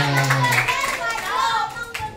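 Students at a school seminar clapping as a classmate comes forward, with scattered hand claps mixed under children's voices and chatter in a lively room.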